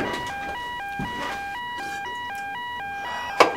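An electronic alarm beeps in a repeating two-tone stepped pattern, steady and insistent, with a sharp thump near the end.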